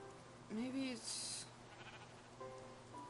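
A Minecraft sheep bleats twice in the video game, a wavering bleat near the middle and a shorter one toward the end, over quiet game ambience.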